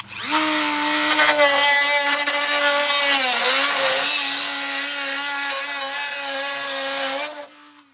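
Rotary power tool cutting and trimming plastic clone trooper armor, a loud close high-pitched whine that dips briefly under load midway, then runs steadily before winding down at the end.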